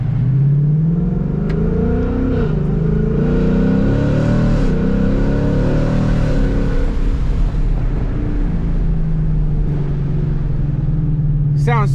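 A 2021 Ford Mustang GT with a Roush X-pipe, resonator delete and stock mufflers revs its exhaust up and down over a steady idle rumble, loud and close, for the whole stretch.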